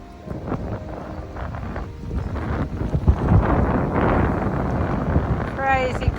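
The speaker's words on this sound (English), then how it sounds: "It is so windy" Strong gusty wind buffets a narrowboat on the River Nene near Elton Lock, a loud rumbling roar with bursts of microphone wind noise, while a person talks over it.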